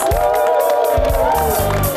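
A studio audience at a Kyrgyz television show applauds and cheers for a professional musician, a loud continuous crowd roar with whoops and clapping, while a voice carries a sustained musical tone over the din.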